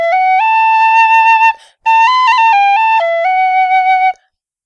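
A tin whistle plays a clear, pure melody of sustained notes stepping between pitches, loud and close, pausing briefly midway before a final phrase ends in silence.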